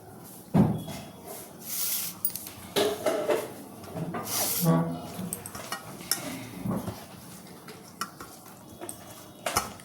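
Two mugs are moved around a home kitchen, giving scattered ceramic clinks and knocks among clattering dishes and utensils, close and uneven, with faint background talk.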